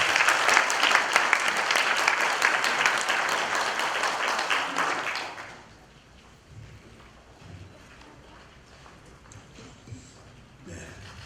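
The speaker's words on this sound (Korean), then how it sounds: "여러분 뜨거운 박수로 맞이해 주시기 바랍니다" Loud, dense applause from a ceremony audience welcoming a speaker to the stage at an August 15 commemoration marking the 100th anniversary of the March 1st Movement; the clapping lasts about five seconds, then drops away to quiet room ambience.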